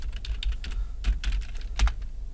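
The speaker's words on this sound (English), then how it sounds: "type my password," Computer keyboard keys pressed in short irregular bursts while a password is typed, close and clear with small pauses between keystrokes, no voices.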